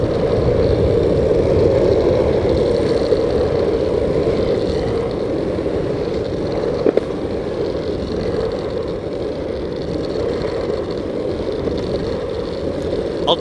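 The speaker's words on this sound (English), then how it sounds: "A lot of people were talking about the noise of the Jed board." Steady whirring motor drone of a Jed Jr electric board rolling along in a Shenzhen park, a continuous close hum with a brief click near the middle.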